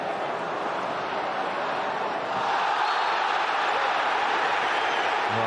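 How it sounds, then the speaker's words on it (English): A large football crowd roars continuously at a Manchester United versus Arsenal match in the 2003-2004 season, a dense, loud, steady wall of stadium noise that swells slightly midway. "the crowd now are very much roaring for the referee to give Ronaldo a bit more protection"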